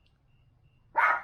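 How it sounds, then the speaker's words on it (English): A small dog barks once, sharp and loud, from beneath a porch, a single close yap that cuts through near-silence. "And little barking dogs."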